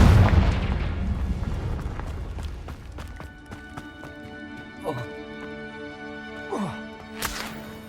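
Confringo fire spell explosion in Hogwarts Legacy: a loud, booming blast at the start that rumbles and fades over a few seconds, followed by scattered lighter impacts and whooshes.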